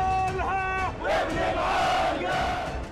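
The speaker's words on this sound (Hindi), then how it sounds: "इजराइल के खिलाफ नारेबाजी शुरू हो गई।" A large protest crowd in the streets of Amman, Jordan, chanting slogans against Israel in support of Palestinians; loud, continuous massed voices rising and falling together, with some shouted cries, and no separate speaker.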